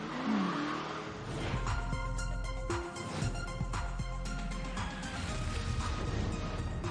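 A car drives along the open road in Pacific Drive, its engine running and revving close by with tyres rolling over the surface, steady and continuous for about seven seconds.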